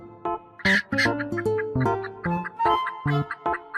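A chicken clucks in a run of short, irregular bursts at moderate loudness, heard over steady background music.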